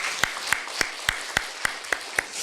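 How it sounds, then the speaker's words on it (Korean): A church congregation claps in steady unison at a Sunday service, a single regular beat of sharp, close claps at about three per second, with a faint wash of scattered clapping beneath and no talking. "우리 박수로 우리 축복하도록 하겠습니다"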